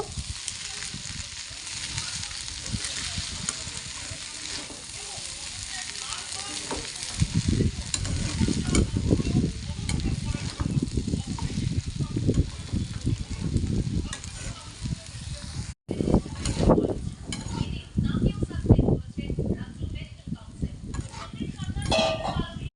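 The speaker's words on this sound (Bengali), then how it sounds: "এবার ভালো করে নেড়ে নেব।" Pasta being stirred with Maggi masala in a frying pan, a steady sizzle with scraping stirring strokes that grow louder partway through, close and continuous.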